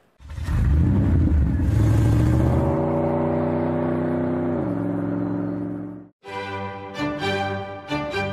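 A 2018 Rolls-Royce Cullinan SUV drives with a loud, close engine note that rises steadily as it accelerates, then cuts abruptly to a different sound near the end.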